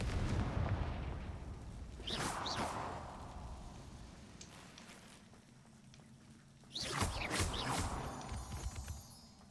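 Confringo blasting spells in the game Hogwarts Legacy go off as two bursts of booming, crackling impacts, the second louder and rougher, over a steady low game rumble.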